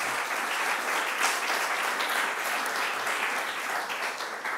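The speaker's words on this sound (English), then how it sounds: "a very warm applause to Katrin Aul" Conference audience gives warm applause to Katrin Aul at the TEPSA EU Pre-Presidency Conference: a brief, steady burst of many hands clapping, even and moderately loud from start to finish.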